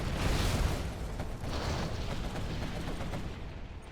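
A Spectre gunship fires during a Twilight Flame match in a video game. Repeated heavy blasts and rumbling impacts build into a dense, continuous barrage with no voices.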